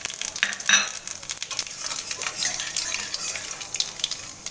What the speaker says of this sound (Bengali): শুকনো লঙ্কাটা একটু ভাজা হয়ে গেলে এর মধ্যে আমি কালো জিরা দিয়ে দেবো